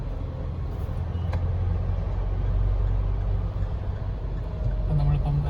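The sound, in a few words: Mahindra Thar 2020 driving, turning onto road at night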